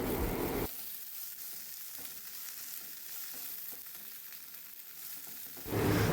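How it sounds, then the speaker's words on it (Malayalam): Green chillies and curry leaves fry in a pan for Kerala-style rava upma while being stirred together, a steady soft sizzle with faint scraping running for several seconds, framed by louder bursts at the start and end. "പച്ചമുളക്, നമ്മൾ എടുത്തു വെച്ച കറിവേപ്പില എല്ലാം കൂടെ ഇട്ട് വീണ്ടും ഒന്ന് ചെറുതായിട്ട് മിക്സ് ചെയ്യാം."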